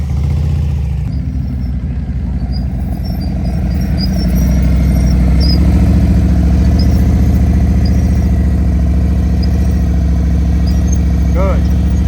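A motorcycle engine running at low speed during slow-speed riding practice in California, a loud steady low rumble that swells slightly as the throttle opens, with brief squeaks near the end.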